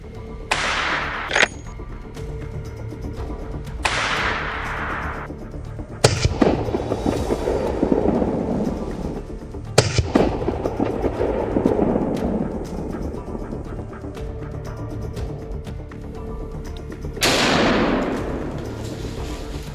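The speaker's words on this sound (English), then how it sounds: "Hunters use Browning-designed rifles at WMS Firearms Training in Wales." Rifle shots ring out at an outdoor firearms training range in Wales where hunters fire Browning-designed rifles, a handful of sharp loud reports spaced several seconds apart, each with a rolling echo trailing off into the open air.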